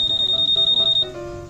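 A steady electronic alarm beeps in a fast, even pulse of high tones, loud and close, then shifts to a lower, continuous buzzing tone; no one speaks.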